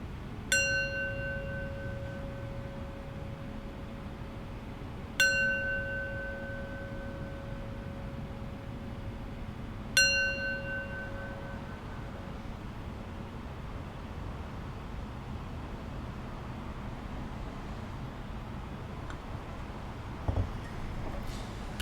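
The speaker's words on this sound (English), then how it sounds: "So I'll close our practice with 3 rings of the bell." A meditation bell is struck three times at the close of a mindfulness practice, each bright ring about five seconds apart and fading slowly over quiet room hiss.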